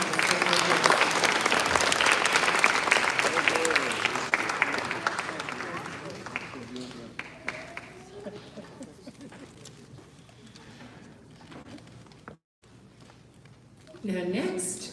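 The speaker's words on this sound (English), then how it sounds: "Please give a huge round of applause." An audience at the Samhita 2022 storytelling event bursts into loud, dense applause that fades into scattered clapping, followed by a brief gap and then a voice speaking.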